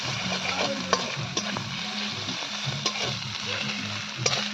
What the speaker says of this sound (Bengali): এবার কুচি করে রাখা রসুন আদা বাটা একসঙ্গে দিয়ে দেবো দিয়ে হালকা হালকা করে ভাজতে থাকবো